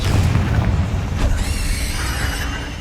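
A Confringo spell blast in Hogwarts Legacy: a deep, rumbling boom fills the opening, then a sharp crack and a ringing, shimmering magical tail that fades over a steady background.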